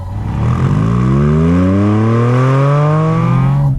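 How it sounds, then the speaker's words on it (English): A Porsche Boxster Spyder RS engine pulls away from a stop and climbs steadily in pitch, with a hollow, breathy intake roar that stays loud and close throughout. "The intake sound when you pull away from a stop, that's totally unique."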